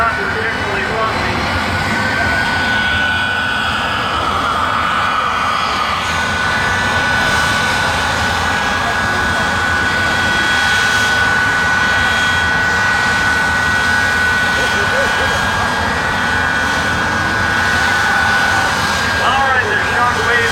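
A jet-engine truck runs continuously at an auto race track, a loud, steady roar with a sustained high whine holding for the whole stretch and no pauses.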